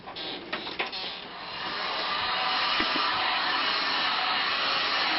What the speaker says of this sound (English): I'm going to go ahead and hit it with the heat gun a little bit so it bends easier.